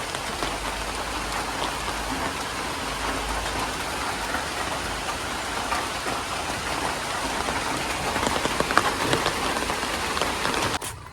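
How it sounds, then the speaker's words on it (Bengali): Light rain falls steadily on a village, a constant even patter on surfaces with no voices, holding at the same level throughout. "একটুখানি বৃষ্টি নামছে"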